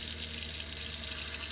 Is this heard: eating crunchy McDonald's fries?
no